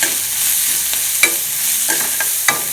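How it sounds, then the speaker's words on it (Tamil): Chopped onion sautéing in a pan gives a loud, steady sizzle, broken by a few sharp scrapes and clicks of a spatula. It is close, with no voices. "பெரிய வெங்காயம் கட் பண்ணி வச்சுருக்கேன் ஒரு வெங்காயம் கட் பண்ணேன் அதையும் போட்டுக்குவோம் நல்லா வதக்கிக்கலாம்"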